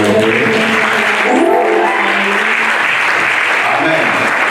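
A church congregation at a French-language worship service breaks into loud, sustained applause and cheering, the clapping dense and continuous with voices rising through it.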